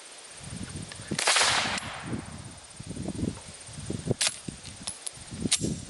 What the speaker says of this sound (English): Let's take some shots to see how it runs.